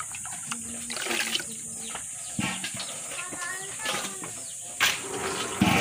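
Water runs from a shower as a small teacup dog named Mallows is bathed, a continuous splashing hiss with bursts of spray, while voices and whimpering cries come and go over it.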